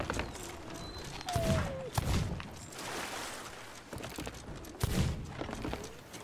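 Gunshots ring out in the pirate video game Sea of Thieves: several sharp, fairly close shots at irregular intervals, mixed with footsteps and other game noise.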